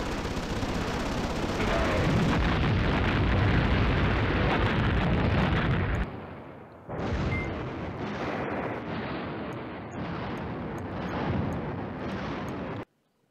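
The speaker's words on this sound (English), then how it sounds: "Let's hit an airstrike there as well." Airstrike in the Command Ops 2 wargame: a long, loud barrage of rumbling explosions and blasts rolls on continuously, then breaks into a few dense bursts of bombardment that cut off abruptly, with no talking over it.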